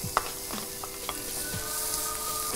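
Finely sliced onions sizzle in hot oil in a frying pan, a steady close crackle with light scraping as they are stirred, occasional sharp clicks of the spoon against the pan.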